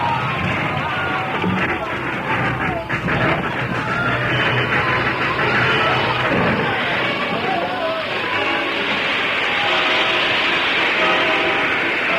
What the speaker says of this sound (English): Then it toppled over, crashing into the gorge below.